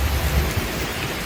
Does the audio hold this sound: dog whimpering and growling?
no